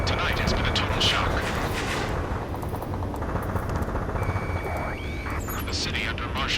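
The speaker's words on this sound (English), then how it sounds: "Gunfire and the roar of jets echoing through the streets." Gunfire and roaring jet engines echo through a city under martial law in the Ace Combat 7 video game, a dense, continuous rumble with sharp bursts and a voice talking over it.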